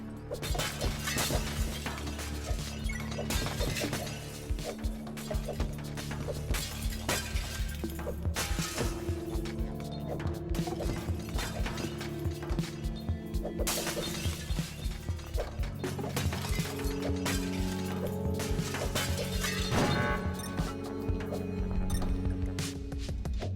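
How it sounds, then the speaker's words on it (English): Glass panes shatter again and again in the video game Smash Hit, sharp crashing breaks landing in quick irregular bursts over a rhythmic electronic music track, with no talking. "Most of these you can get away with just smashing glass with normal balls"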